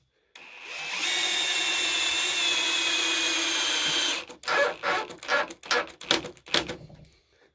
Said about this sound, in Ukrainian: Беремо такого шурупа. закручуємо.